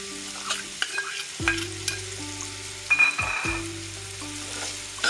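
Eggplant pieces frying and being stirred in a pan with raw mango for a jaggery kairi methamba pickle. Scraping stirs and a soft sizzle repeat over a steady low hum, with no talking.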